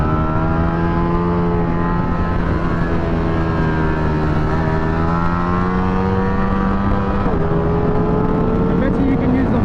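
A 2023 Ducati V4 SP2 motorcycle engine on a race track, holding a loud continuous high-pitched roar whose pitch climbs and dips through revving and gear changes, close and dominant throughout, with a voice talking over it.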